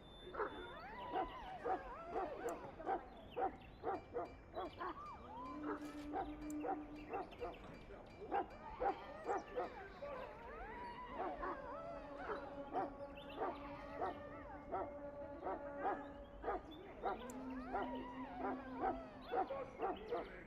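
A Mabari war hound in Dragon Age: Origins barks repeatedly in short, rhythmic bursts mixed with yips and whimpers, fairly faint within the game's soundscape, with some talking in the background.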